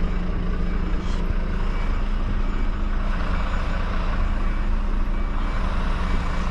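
A lorry manoeuvring in a tight spot, its engine a loud steady close rumble with a constant tonal hum; no distinct reversing beeps stand out.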